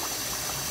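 Water poured from close by into a pot of uncooked rice being filled to knuckle depth, a brief steady rushing stream with nothing else audible.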